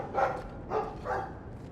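A dog in Dragon Age 2 gives three short barks in an even rhythm, moderately loud and clear with nothing else around them.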